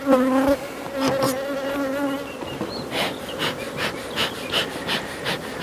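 Honeybees buzz around beehives, a dense, wavering swarm hum close by with individual bees passing near, accompanied by faint wooden knocks and handling noises.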